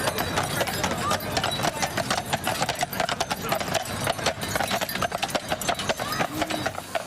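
Hooves of a horse-drawn carriage clip-clop steadily on a downtown street during a winter festival, with a faint engine idling and people talking in the background.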